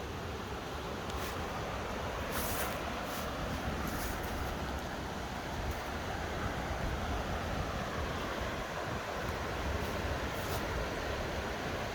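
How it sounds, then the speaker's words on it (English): A small creek on Jake's Creek Trail flows with a constant, even hiss of water, fairly quiet and unbroken, with no voices. "Nice little creek."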